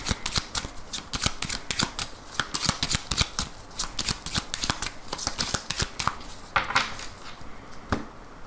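A 32-card playing deck is riffled and shuffled repeatedly at close range, rapid crisp flutters and taps in an uneven rhythm, with no talking.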